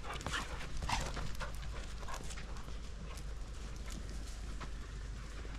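A dog tears around with the zoomies outdoors, its quick panting and scrabbling footfalls coming in uneven bursts against a faint, breezy background.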